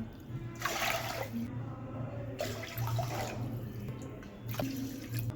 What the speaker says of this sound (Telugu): సగం గ్లాసు బియ్యానికి 5 గ్లాసుల నీళ్ళు పోసుకోవాలి.